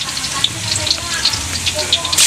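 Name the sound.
meat frying in a pan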